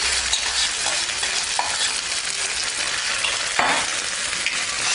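Minced meat with cheese sizzles steadily in a frying pan during börek filling preparation, with soft scraping as it is stirred and turned over, close up and without talk.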